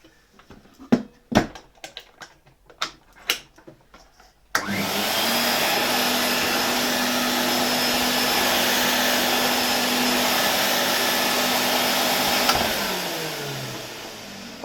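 A Hoover Constellation model 867A vacuum cleaner starts after a few scattered handling clicks, then runs with a loud, steady motor whine and rushing air before winding down at the end.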